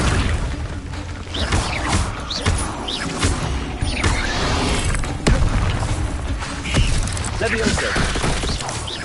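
Magical spell effects from the Hogwarts Legacy video game, including the Accio summoning spell: dense booms, whooshes and mechanical clanks over a continuous layer of game sound, loud and busy throughout.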